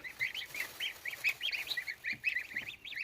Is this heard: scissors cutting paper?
no